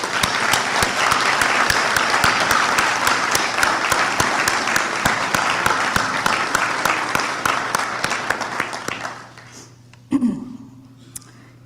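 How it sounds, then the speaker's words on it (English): Commencement crowd applauding in a hall, dense and loud at first, then thinning into scattered claps and fading out, with a brief faint voice near the end. "So let's clap for you too, okay?"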